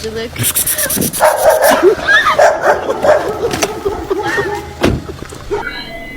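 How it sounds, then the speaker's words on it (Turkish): Dogs bark and yip in short bursts over busy, overlapping chatter, with a sharp knock near the end. "Köpekler pusuda."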